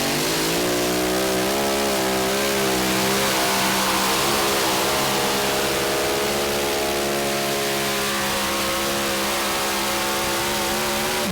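A mini rod tractor-pulling machine at a Lions club pull event roars at full throttle, its engine holding a loud, steady high-revving howl with slowly shifting pitch for several seconds, no voices.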